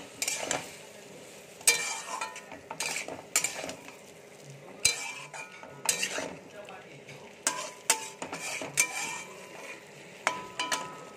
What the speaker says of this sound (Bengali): মশলাটা একটু কষানো হয়ে যাক